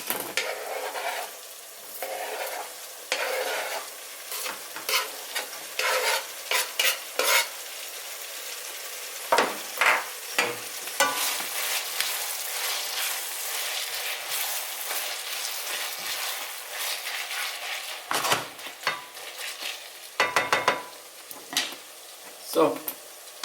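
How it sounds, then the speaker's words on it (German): Onion and minced meat browning in a pan for a Turkish gözleme filling, a loud steady sizzle with repeated scraping and clanking stirs of a utensil, close up. "solange tue ich natürlich das anbraten, dann tun wir den Zwiebel auch gleich rein"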